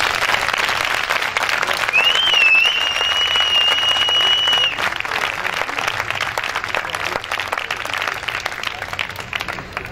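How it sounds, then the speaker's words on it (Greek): An audience claps loudly and steadily after a philharmonic concert, a dense sustained wave of applause with a brief whistle partway through that softens slightly toward the end. "Αξίζουν τα παιδιά το χειροκρότημά σας άλλη μια φορά."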